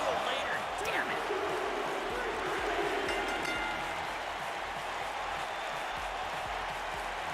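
Crowd noise from a live wrestling audience in the video game WWE 2K19, during a cage match: a steady, dense roar of cheering and murmur that holds at an even level throughout, with voices talking over it.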